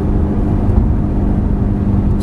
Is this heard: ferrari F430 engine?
yes